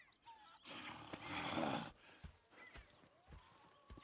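Horses in the Red Dead Redemption video game, with a burst of hoof and snorting noise up close early on, then scattered clip-clop thuds and a faint whinny-like tone fading behind ambient game sound.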